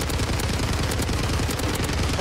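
Sniper and other gunfire in a video game shooter, a dense, continuous barrage of shots and blasts filling the whole stretch, with a voice faintly audible beneath the din.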